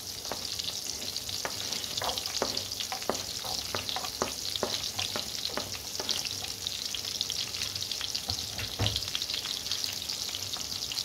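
Garlic frying in a pan, a steady loud sizzle throughout, broken by frequent crisp scraping stirs of a utensil against the pan.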